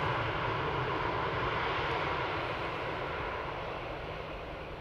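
Portuguese airliner on approach to land at Amsterdam Schiphol, a broad, loud jet roar holding steady and easing slightly as it passes, with no talking.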